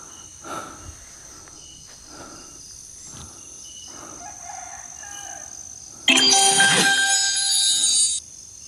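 Rooster crowing at night, one loud drawn-out crow close by after several seconds of quieter background noise with faint insect chirping.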